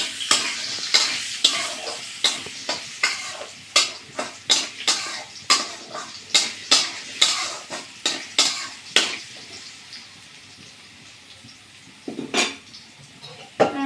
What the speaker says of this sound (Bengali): আলুটা একটু ভাজা হওয়ার পরে পেঁপেটা দেবো।